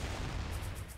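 A bomb explosion in the video game Spelunker World: one short, dense, low boom that fills the whole moment, loud and close, with no voice over it.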